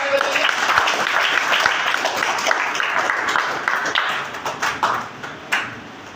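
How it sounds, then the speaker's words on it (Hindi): An audience claps for a family in a dense, sustained burst of applause that thins into scattered individual claps toward the end. The room sounds moderately reverberant. "अपने परिवार के लिए जोरदार ताली बजाइए।"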